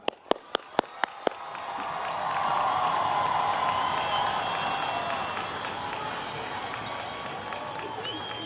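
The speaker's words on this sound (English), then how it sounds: "give a warm welcome and a huge round of applause" A crowd at the Eagles Landing High School Class of 2022 commencement bursts into loud applause and cheering for the valedictorian, with a few sharp clacks at the start before the clapping swells into a sustained roar with whoops.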